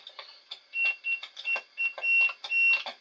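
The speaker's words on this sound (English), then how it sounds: "See, I'm getting beeps on lots of different ones." Rapid electronic beeps from a 1958 Williams Short Stop pinball machine under test chirp in an irregular, stuttering pattern, thin and high-pitched, with faint clicking between them.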